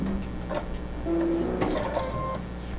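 An electric sewing machine stitches the corners of cloth napkins with a steady mechanical whir and rhythmic ticking, close and moderately loud, with soft background talk.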